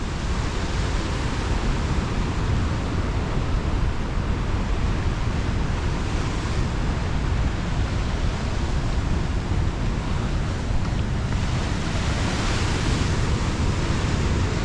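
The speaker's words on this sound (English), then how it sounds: "there's some really massive collisions of the ocean versus the rocks" Ocean waves smash against Australian coastal rocks in a loud, unbroken roar of surf, with heavy wind buffeting throughout and swells of louder crashes.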